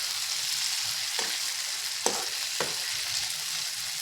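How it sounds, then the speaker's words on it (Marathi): Dried fish cooking under a lid over a low gas flame, a steady soft sizzle with a few brief scraping or lid-knock sounds. "आणि बारीक गॅसवरती 5 मिनिटं झाकण लावून याला शिजू देऊया।"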